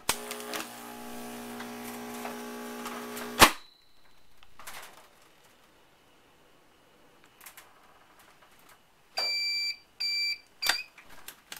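A DZ 300A vacuum sealing machine runs with a loud motor hum that cuts off abruptly, then quiet clicks and a series of short electronic beeps near the end.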